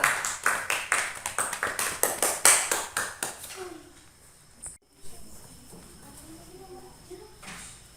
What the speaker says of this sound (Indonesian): Ayo tepuk tangan buat kawannya.